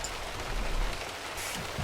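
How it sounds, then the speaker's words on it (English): Steady rain patters down across a truck in Euro Truck Simulator 2 during a thunderstorm, a soft, even wash of drops with no voices. "Well, apparently it's raining."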